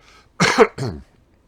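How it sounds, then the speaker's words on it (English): A single short throat clearing, two quick rough bursts close to the mic, with nothing else around it. "Just clearing my throat."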